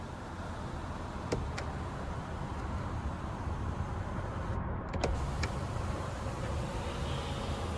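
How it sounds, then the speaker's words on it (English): Panoramic sunroof motor on a 2021 Kia Sportage S AWD tilting or sliding, a steady electric whirr inside the cabin with a few faint clicks along the way. "for your panoramic sunroof, you can either tilt it or slide it"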